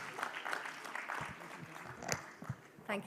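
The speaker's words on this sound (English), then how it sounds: "Let's give him a warmer round of applause as she welcomes our chief guest" Scattered audience applause at a women's nuts and dry fruits industry conference, fairly faint and uneven, with irregular claps and some voices mixed in.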